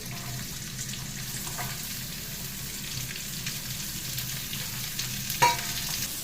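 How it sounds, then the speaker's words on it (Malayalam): Green chillies, curry leaves and onion fry in hot oil for a beef roast, giving a steady close sizzle throughout with a brief, sharper hiss near the end. "നല്ലപോലെ ബ്രൗൺ കളർ ആവുന്നിടം വരെ മൂക്കട്ട് കിടന്ന് കേട്ടോ."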